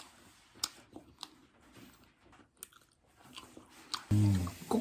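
Cream cheese being eaten close up, with soft, irregular chewing and mouth sounds spread over several seconds, then a louder low thump near the end.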